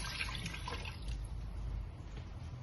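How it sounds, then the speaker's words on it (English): Water poured into a pot over lamb neck meat and pumpkin for a Jamaican soup, a soft, steady splashing rush that runs without pause. "Cover the meat and the pumpkin with the water"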